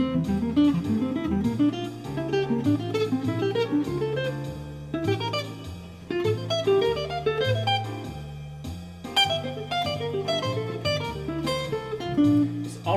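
A jazzy guitar line with bass and drums plays steadily, its phrases landing slightly ahead of the beat in a lively, syncopated groove.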